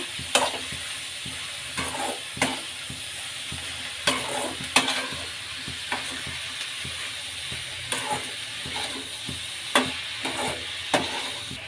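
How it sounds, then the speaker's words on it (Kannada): Mixed vegetables for soya bhurji frying on high flame in a pan, a continuous close sizzle broken by regular spatula scrapes and clanks every second or so, no talking. "ಸ್ಟವ್ನ ಹೈ ಫ್ಲೇಮಲ್ಲಿ ಇಟ್ಕೊಂಡು ಚೆನ್ನಾಗಿ ಫ್ರೈ ಆಗಲಿ."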